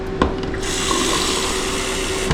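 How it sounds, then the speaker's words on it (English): A campground restroom shower runs hot water in a steady loud hiss, with a couple of brief knocks at the start and no talking. "This is the shower, running hot water."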